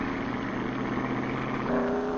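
A 1952 hot rod car engine roars as the car takes off and fishtails. The engine sound is loud and continuous, with a slight rise in pitch near the end, recorded on old, muffled film audio.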